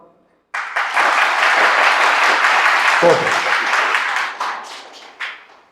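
Congregation clapping in a Tamil Christian church service, bursting in loudly after a short pause and sustained dense applause with voices mixed in, tapering off near the end.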